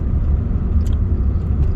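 Food being chewed inside a moving car on a lunchtime drive from Dundee toward Coupar Angus in Scotland, soft mouth sounds and a few small crunches buried under a steady, loud low road-and-engine rumble.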